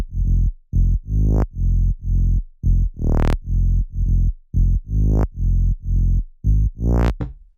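A tech house bass synth from Serum with filter cutoff automation pumps through a repeating pattern of short, heavy notes, its tone sweeping brighter at the end of each phrase, loud, close and alone.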